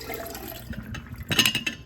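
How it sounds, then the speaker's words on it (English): Pickles and their juice pour into a 49 oz glass pickle jar with a strainer, a short splashing, gurgling pour that swells into a louder rush near the end. "Unscrew the top, unscrew that top, pour in the pickles."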